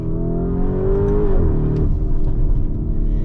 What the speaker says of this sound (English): Listen to the sound of my V8.